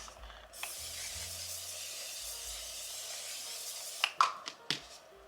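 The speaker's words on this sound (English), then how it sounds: "I also use my one size spray." A soft steady hiss of cosmetic setting spray misting onto a face runs for several seconds, followed by a few short sharp bursts near the end.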